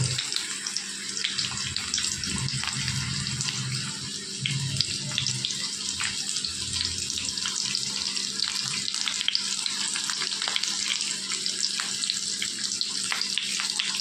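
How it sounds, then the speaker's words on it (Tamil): Onion frying in a pan with ginger-garlic paste, a continuous hissing sizzle held at an even level for a long stretch, close by with no talking. "இந்த ஆனியனை அதில் போட்டு"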